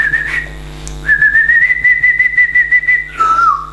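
A person whistles a sustained tune, one long held note with a short break before it, then sliding lower at the end, close and clear with no talking.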